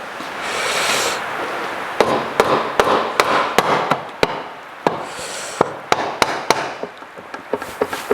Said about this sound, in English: I just need to go and get me the rubber hammer and give it a tap